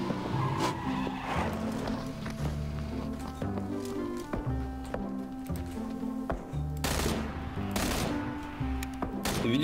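PUBG car engines roar and tires skid repeatedly, with sharp bursts like gunfire cutting through the steady revving.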